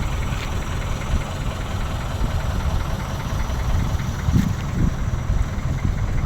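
A boat engine idles at Mauban port before the trip to Cagbalete Island, a steady low rumble with constant vibration that stays loud and even throughout, with no talk.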